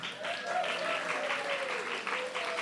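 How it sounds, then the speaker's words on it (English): Audience applause at an awards ceremony, with steady, moderately loud clapping from a crowd that continues evenly for the whole stretch. "Round of applause for May."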